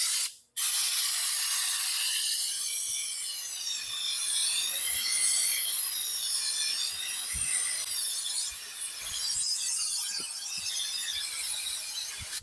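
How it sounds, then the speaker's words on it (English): A close, continuous hiss of an aerosol can spraying non-skid coating on a hunting boat, wavering in strength, with a few faint clicks and taps underneath. "Watch how I spray this."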